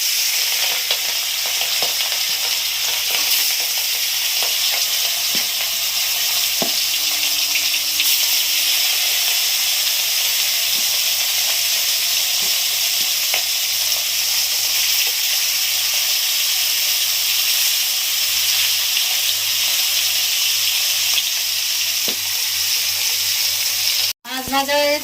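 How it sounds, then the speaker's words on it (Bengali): Hilsa fish frying in hot oil in a wok, giving a loud, steady sizzle with soft crackles that runs unbroken for about 24 seconds before cutting off abruptly. "এবার আমি মাছ দেবো কড়াই।"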